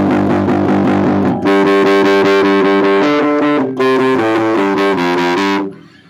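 Loud, heavily distorted electric guitar playing chunky punk rock chords with a raspy, buzzsaw tone, brief breaks between phrases and a ringing fade at the end.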